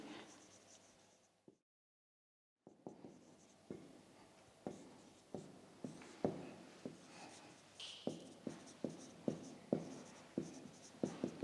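Pen writing a chapter number on paper, quiet close scratching in a steady rhythm of short strokes, with a brief silent pause near the start.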